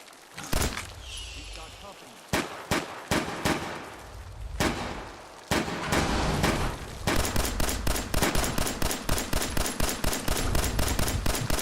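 Gunfire in Fallout 4 as a full magazine is emptied, with scattered single shots early giving way to a long steady rapid burst, loud and close.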